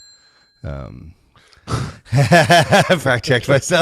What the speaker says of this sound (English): I love the bell.